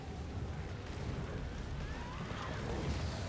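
Cannon fire in the online game Guild Wars 2, a dense, rumbling mix of booming blasts and explosions that continues throughout, fairly quiet and low in level.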